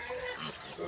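Low grunting from a native sow, close by and fairly quiet, continuing briefly over a noisy background.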